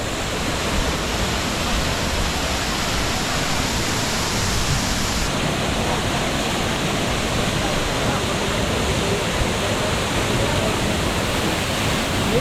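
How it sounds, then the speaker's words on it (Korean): Casaroro waterfall near Dumaguete in the Philippines pours in a steady, loud, broadband roar, close by and unbroken throughout with no other sounds over it. "카사르로 폭포에 도착했습니다."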